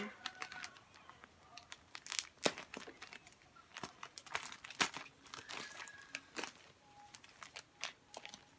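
Someone is unboxing a hoodie set and tearing into the plastic wrapping, which makes sharp crinkles and rustling crackles in irregular bursts, close and fairly quiet, with no talk.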